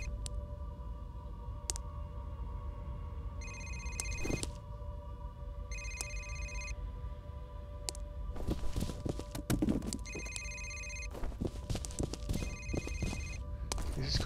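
A telephone in the game F.E.A.R. rings several times at a regular pace, moderately loud, while footsteps and knocking sounds move through a quiet interior.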